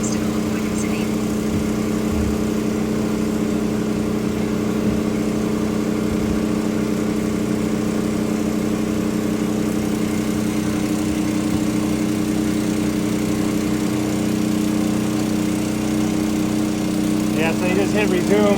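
DJI T40 agricultural spray drone lifting off over a wheat field, a steady loud motor drone with a layered rotor hum that continues unbroken, with voices talking over it.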